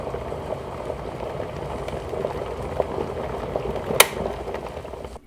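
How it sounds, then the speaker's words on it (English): Electric kettle filled to its maximum bringing water toward a boil, a steady close rumbling bubble and hiss with a brief sharp click near the end, no voices. "we will just get the kettle warming"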